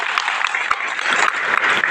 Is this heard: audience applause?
yes